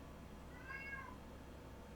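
A pet cat gives a single short, faint meow indoors, heard alone over a quiet background hum.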